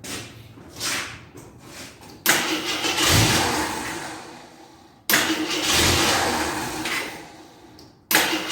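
A 1983 Scrambler motorcycle that hasn't run for years cranks and catches in repeated start attempts, each a loud, rough burst of engine noise that sputters and fades before the next try, close to the listener.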